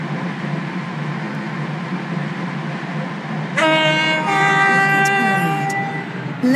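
A train in the Stepford County Railway video game rolls along with a steady rumble, then a loud, sustained horn sounds partway through. Brake squeal and rail noise follow as it slows on its arrival at a station.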